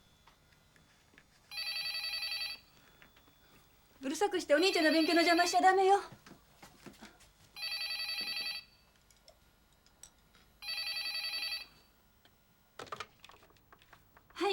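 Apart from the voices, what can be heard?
telephone ringing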